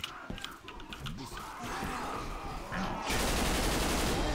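Rapid gunfire from Left 4 Dead 2 with a Rayman mutation mod, dense bursts of shots growing louder and continuous toward the end, mixed with game effects.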